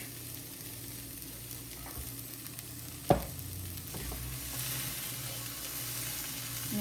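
Carrot, capsicum and cabbage filling for paneer tikka frankie sizzles softly in a pan while being stirred, a steady low frying hiss with one sharp scrape of a spatula midway.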